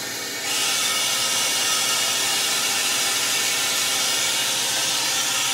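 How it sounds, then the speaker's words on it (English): Air rushes steadily into the vacuum chamber of a freeze dryer as its valve is opened after a batch of sweet peppers, a loud continuous hiss that starts abruptly and holds for several seconds. "So now I'm gonna open the valve and drain the vacuum off."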